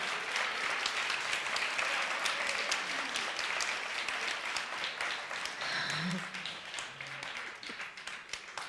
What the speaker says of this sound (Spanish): Le damos un aplauso fuerte.